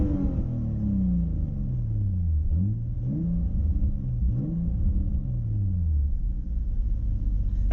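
A Nissan 350Z fitted with a 370Z exhaust revs several times, its engine rising and falling in pitch as a deep, steady rumble, fairly restrained and close by.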